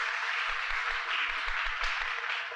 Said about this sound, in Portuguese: Palmas, palmas, cara.